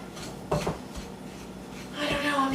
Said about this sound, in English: I'm just using a spoon.